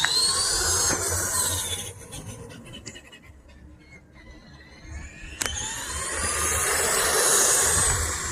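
A Traxxas Bigfoot RC monster truck fitted with lights drives around outdoors, its motor whining and tires scraping, loud at the start and end and fading in the middle as it moves farther off.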